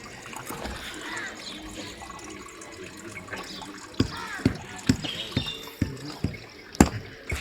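Water running and splashing while a floor is washed and filled inside a village room, a steady trickle with scattered knocks and splashes, with faint voices.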